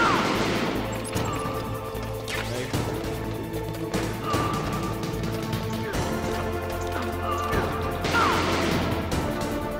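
Gunfire and crashing impacts in Metal Gear Solid gameplay, with repeated sharp shots and bangs over a dense, busy game soundtrack, a few bursts standing out near the start and end.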